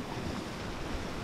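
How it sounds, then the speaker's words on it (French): Sea waves breaking and foaming against rocks along a French coastline while squid fishing, a steady close wash of surf with light wind noise throughout. "Il y a des belles vagues sur le rocher là-bas."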